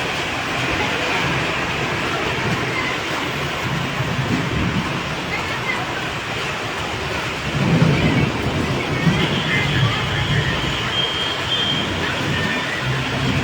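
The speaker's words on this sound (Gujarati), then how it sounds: "હળવદ શહેરમાં અત્યારે કડાકા ભડાકા સાથે વરસાદ જોવા મળી રહ્યો છે" Steady heavy rain roars throughout a thunderstorm in Halvad town, Gujarat, with deep rumbling swells of thunder rising around the middle; dense, continuous, and fairly loud.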